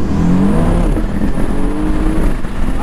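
A VW Corrado R32 Bi-Turbo with DSG accelerates hard at full throttle in second gear, a loud, close, continuous engine roar that climbs in pitch, with no voices.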